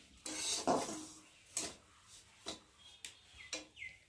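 A spatula scrapes and clinks against a pan in separate strokes as semolina fries in white oil, with a faint sizzle in the gaps between strokes.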